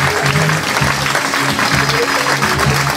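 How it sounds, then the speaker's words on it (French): An audience at an employees' day event claps loudly and continuously, a dense roar of hands over a steady low hum and a faint background tone. "On peut l'applaudir."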